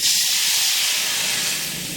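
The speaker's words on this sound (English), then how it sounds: "That will make that steam" Water hits the floor of a hot oven at 375 degrees while baking bolillo bread, releasing a loud, continuous hissing rush of steam that stays strong and slowly eases over two seconds.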